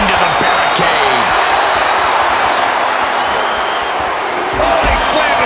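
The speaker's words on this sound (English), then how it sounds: "he slammed his face right into the barricade." A wrestler is slammed face-first into the ringside barricade in the WWE 2K24 video game during a six-man TLC match, one dull impact lost in a loud, steady arena crowd roar and game commentary.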